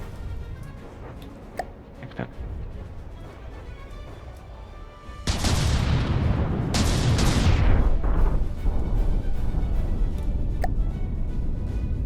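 Ship guns fire in a video game: a heavy blast breaks in midway, followed by a second booming volley and a long loud rumble, after quieter ticking and faint thuds.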